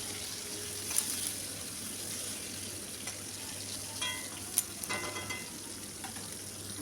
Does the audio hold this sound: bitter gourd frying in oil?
yes